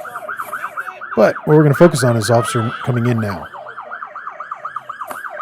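A police car siren wails steadily as an officer responds with lights and sirens to a person armed with a knife. The rising-and-falling tone runs under a voice and stays loud after he stops speaking.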